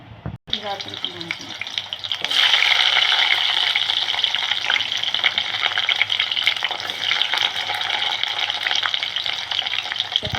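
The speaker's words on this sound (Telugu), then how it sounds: "నూనెలో వేయించుకుంటున్నాను" Drumstick pieces drop into hot oil and the frying jumps from quiet to a loud, steady, bright crackling sizzle that holds for several seconds.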